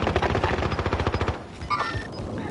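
Rapid automatic gunfire in the video game Warzone, a loud close burst of evenly spaced shots for over a second, followed by quieter clatter and tonal game effects.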